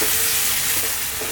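Peas sizzle and are stirred in a pan over vigorous heat, a dense, bright hiss of frying with faint scraping under it.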